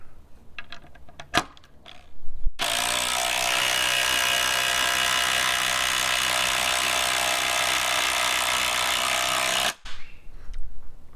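A Ryobi P239 brushless impact driver running on an older 3 amp hour battery drives a 4-inch lag bolt: one loud, continuous hammering rattle lasting about seven seconds, close up, with short handling noises before and after.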